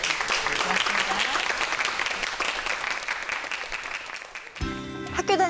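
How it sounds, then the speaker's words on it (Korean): A studio audience claps for a professor after a solid-state physics talk, loud sustained applause that fades near the end as music cuts in. "오늘 재밌는 강연해주신 우리 이종수 교수님께 여러분 큰 박수 부탁드리겠습니다."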